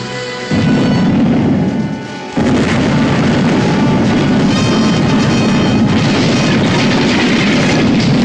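Sustained roaring, rumbling blasts fill the whole stretch, loud and continuous, with a brief dip early on before the din surges back.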